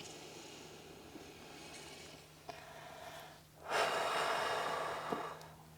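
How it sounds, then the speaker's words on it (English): Slow, deep breaths during a held yoga stretch, each long inhale and exhale a soft airy rush, the last one noticeably louder and fuller, with no talking. "Nice deep inhales and exhales."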